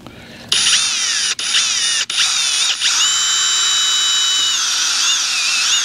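Power drill boring a pilot hole into a 4x4 post, a high whining motor that starts abruptly, briefly stops and restarts twice, then runs steadily up close.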